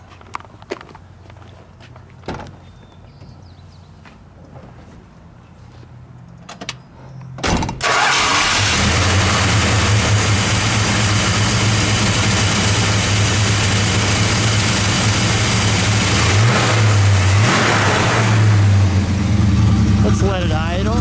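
A 1970 Plymouth Superbird with a 440 engine cranks and fires after several quiet seconds with faint voices, then settles into a loud, steady, deep rumble with a couple of rising revs near the end.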